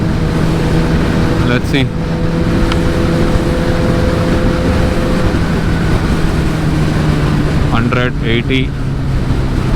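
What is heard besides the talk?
Kawasaki ZX-10RR motorcycle engine at low speed in sixth gear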